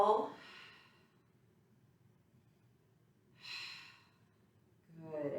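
Audible breaths during a workout twist, a strong exhale at the start followed by two more long, airy breaths after pauses of near silence, close and soft.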